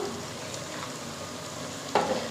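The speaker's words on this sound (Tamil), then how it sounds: "இப்போ தக்காளி நல்லா வதங்கி ஸ்மாஷி ஆகட்டும்" Chopped tomatoes and green chilies sautéing in a pan for brinji rice, producing a steady soft sizzle that ends in a sudden louder clatter of stirring near the end, close by, without any talking.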